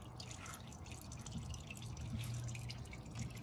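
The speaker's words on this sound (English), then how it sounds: "Okay, so we let this drip for about an hour or so." Automatic transmission fluid dripping from the drain hole of a Mazda Skyactiv 6-speed automatic, a steady faint patter of drops with a low background hum and no talking.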